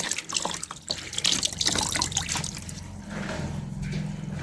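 Water is poured to dilute a plant-based poultry remedy, giving a steady splashing, trickling pour that stays close and fairly loud for a few seconds, with no talk.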